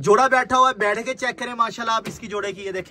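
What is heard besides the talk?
No distinct noise like a dog, phone or traffic.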